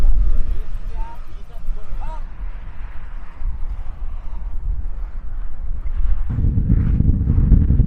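Buffeting wind roars across the microphone while biking from Indian to Bird Point, Alaska, loud and continuous, with a deeper rumble surging near the end.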